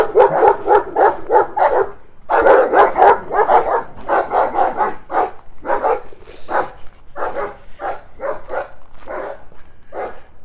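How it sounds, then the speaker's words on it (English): Several dogs bark behind a fence, repeatedly and loudly at close range, in rapid overlapping bursts with short pauses, a few higher yips mixed in. "I think they started barking when they heard me talking before I was even down the alley."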